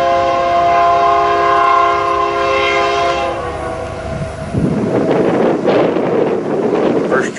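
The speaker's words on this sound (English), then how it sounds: "first train of the day" A freight train rumbles past nearby in Fairbury, Nebraska, with a long, loud horn blast at first, then heavy clattering wagons and gusty wind noise.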